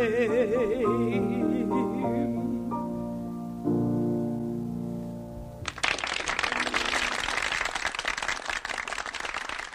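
A cabaret audience breaks into loud, dense applause for a singer, rising suddenly and sustained right after a stretch of music ends.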